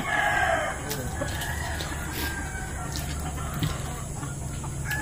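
A rooster crows at the start, fairly near, followed by scattered clucking from chickens over a steady background hum.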